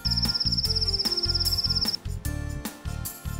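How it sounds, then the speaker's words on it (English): A cricket chirps in a fast, steady trill for about two seconds, heard over a bouncy background music track. "Cricket."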